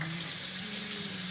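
Breaded chicken cutlets sizzle in a frying pan, a steady, close hiss of hot oil that continues without pause and with no voices.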